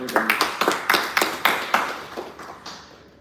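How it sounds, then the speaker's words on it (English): A small room of about twenty people at a Toastmasters new-member orientation gives a brief round of scattered claps. Distinct, sharp hand-claps fall in a loose rhythm, then thin out and fade. "So huge round of applause for everyone."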